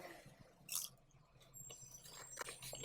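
Someone chews crunchy fried chicken tenders up close, with soft quiet bites and crackly munching and no talk.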